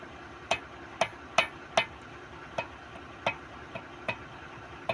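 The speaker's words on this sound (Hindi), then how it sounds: "ऑयल सील ठोक दिए।" Light metallic taps drive an oil seal onto the king pin spindle of an Ashok Leyland BS4 truck, about nine sharp, evenly spaced knocks, fairly quiet and close, with no talk.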